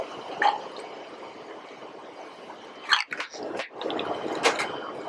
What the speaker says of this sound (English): Basically, fill it about halfway with some soda water